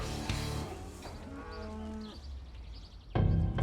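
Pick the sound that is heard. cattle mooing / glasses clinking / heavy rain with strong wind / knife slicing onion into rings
cattle mooing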